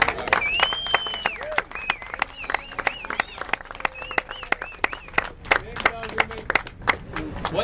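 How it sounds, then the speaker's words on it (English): An audience applauds Mr. Drago at a welcome-home ceremony: scattered, uneven claps with whistle-like cheers and voices talking over them, moderately close. "So a big round of applause for Mr. Drago."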